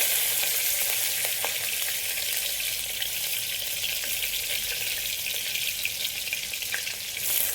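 Green chillies hit hot oil with cumin seeds in a pan, giving a continuous loud crackling sizzle with faint clinks of stirring throughout.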